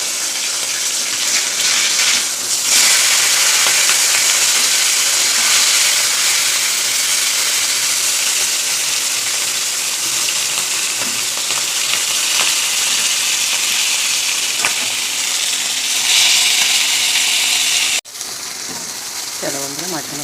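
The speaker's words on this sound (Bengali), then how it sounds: "চলো বন্ধুরা, মাছগুলো ভাজা দিই।" Fish frying in a pan after being flipped, a steady loud hiss and sizzle that runs nearly unbroken, with faint talk underneath and a brief dip near the end.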